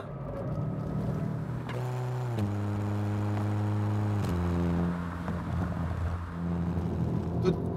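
Engine and exhaust of a Hyundai i30 N in sport mode during a fast lap, a steady droning note that drops in pitch at gear changes and holds under the cabin noise, with no speech.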